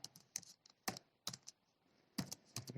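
Quick, uneven clicks of computer keys as a file name is typed, a handful of crisp keystrokes in short bursts, close and fairly quiet, with no talking.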